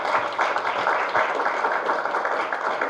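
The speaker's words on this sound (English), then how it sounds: "Can we just give them a round of applause?" Applause from the audience at a community board meeting, a steady dense wash of many hands clapping that holds at an even level for about three seconds.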